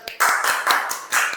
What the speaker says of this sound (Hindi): वाह यार, तालियां बजा दो इन लोगों के लिए